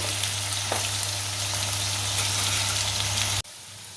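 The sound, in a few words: potatoes frying in oil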